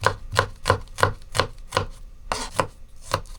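A knife chops vegetables finely on a board, likely tomato or onion for an egg gravy, in crisp, close, evenly spaced strokes of about three per second, alone with no talk.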